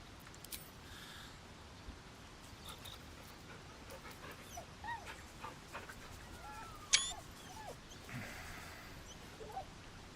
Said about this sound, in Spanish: estoy jugando demasiado con el perro